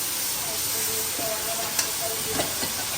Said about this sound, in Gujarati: બધી સિંગ આપણે નાખી દીધી વઘારમાં